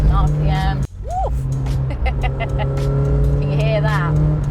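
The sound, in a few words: Toyota AE86 Corolla engine revving at 4,000 RPM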